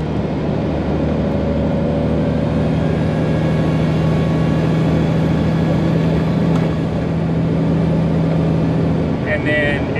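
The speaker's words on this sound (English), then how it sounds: "you can hear the turbo start to spool up at about half throttle" Engine and turbocharger rising at about half throttle in a vehicle crossing rugged desert country, a loud steady low drone with a faint whine on top, running continuously.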